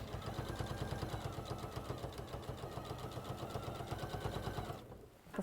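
A sewing machine stitches a line of fabric for a travel mug bag, with a fast steady mechanical whirr and needle patter, close and fairly quiet, stopping near the end.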